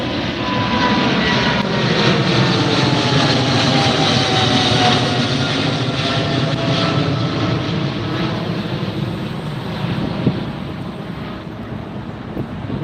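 A large airliner taking off at Heathrow Airport as heard from Myrtle Avenue nearby, a loud continuous roaring jet engine rumble with wind buffeting the microphone.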